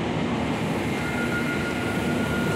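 Steady rumbling roar of a train running on rails, continuous and loud, with a faint high whine throughout and no voices.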